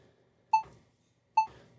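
Two short electronic beep tones from an audio recording countdown sound about a second apart, clean and clear against near silence.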